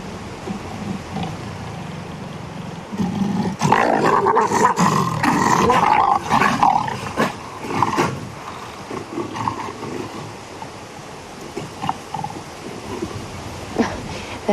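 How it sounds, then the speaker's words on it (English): Wild big cats growl and roar at each other while mating during an African sunset drive, deep harsh snarls building to a loud, drawn-out burst midway, then fading to lower rumbles, with no voices. "They're still growling at each other."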